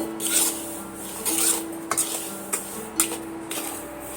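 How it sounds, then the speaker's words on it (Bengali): Semolina dry-roasting in a dry pan over low to medium heat, with a utensil scraping and stirring in soft repeated strokes and faint crackle, close and fairly quiet, no voices. "আমি শুকনো কড়াতে এইভাবে সুন্দর করে লাল লাল করে ভাজা করে নেব"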